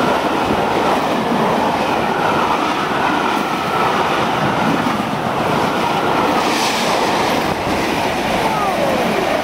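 Locomotive 46233 rips through Bottesford station at night with a loud, close, continuous rushing rumble and rhythmic rattling of passing wheels and wagons, with no talking over it.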